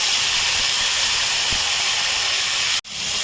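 Carrots, potatoes and other vegetables hit a hot pan for veg biryani, giving a steady, close sizzling hiss that stays even throughout before cutting off briefly near the end.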